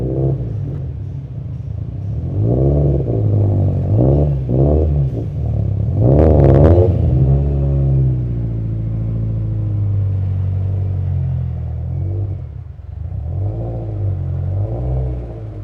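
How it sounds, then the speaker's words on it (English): A race car engine on a dyno revs up and holds at high load, a loud continuous rumbling roar with a sharp rise around the middle, then sustained droning before easing and revving again near the end. "I tested the car myself on the dyno."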